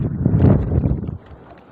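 A strong gust of wind roars against the microphone outdoors, a loud low rumble that swells and then drops away abruptly near the end.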